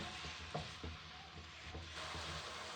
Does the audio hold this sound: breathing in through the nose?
no